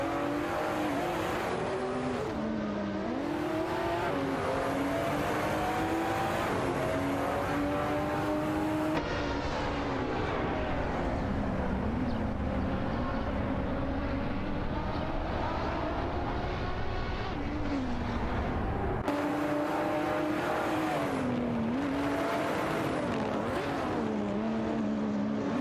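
Race cars in a racing video game whine past in a dense, continuous stream, engine pitches rising and falling as they overtake one another, loud and without talk.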